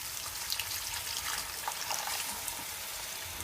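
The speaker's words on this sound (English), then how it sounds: "And now I'm gonna add some boiling water." Boiling water pours in a soft, steady stream into a pot of seafood gumbo, a faint hissing trickle at low volume with no talking.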